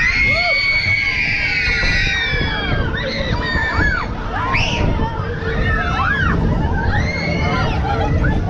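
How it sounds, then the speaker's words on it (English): Crowd of riders on a fairground ride at Blackpool South Pier, seaside amusement setting, with dense continuous screaming and excited shrieks rising and falling over a loud babble of voices for the whole stretch. "everybody's going to scream."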